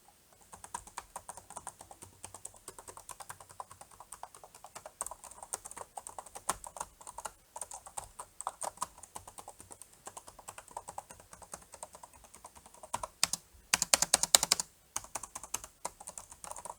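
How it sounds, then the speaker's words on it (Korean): Close HP 15-fd0097tu laptop keys clatter in a steady stream of light clicks, with a quicker, louder burst of typing near the end. "타자 소리를 들어보겠습니다."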